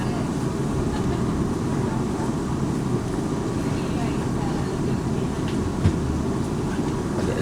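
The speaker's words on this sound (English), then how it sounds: "There's still a fair number of trains here" Steady rumbling of trains at a busy London station late at night, with low clattering rail noise and faint background voices.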